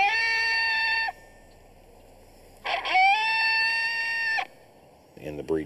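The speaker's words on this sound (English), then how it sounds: "It has a challenge howl." Two long, drawn-out howls from an electronic caller, each rising then holding steady before cutting off, separated by a quiet gap; a short burst follows.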